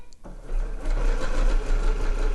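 Sewing machine stitching a zigzag seam on stretch fabric for an ear warmer, starting up after a brief pause into a continuous close whirring drone.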